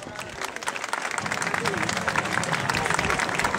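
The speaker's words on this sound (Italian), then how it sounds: "Un applauso." A crowd applauds a visiting group at a medieval festival in Erice, with steady clapping that builds gradually while voices talk over it.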